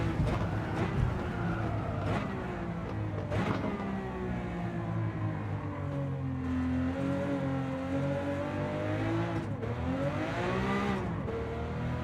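A Lamborghini Countach race car engine in Gran Turismo 7 on the Tokyo circuit, a steady droning roar with rising and falling pitch through gear changes and revs, heard alone and fairly close.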